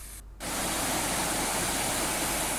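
Moorwell River Falls, a waterfall in East Gippsland, roars as a steady, loud wash of broadband rushing water that begins after a brief dip at the start and then holds constant throughout.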